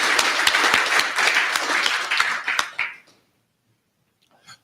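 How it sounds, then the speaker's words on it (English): A meeting audience gives a round of applause, a dense burst of clapping with a few sharp individual claps, which stops abruptly after about three seconds and leaves near silence. "Could I have a round of applause for Tim Chone, please?"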